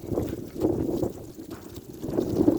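Strong wind blows along a street in Israel and rumbles across the microphone in steady gusts that swell and fade. No voices are heard.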